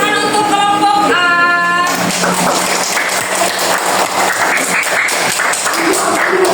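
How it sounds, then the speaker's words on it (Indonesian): A fourth-grade class claps for a student group after a voice or tone at the start, then a loud, sustained rattle of many small hands clapping close by and unevenly. "tepuk tangan untuk kelompok A"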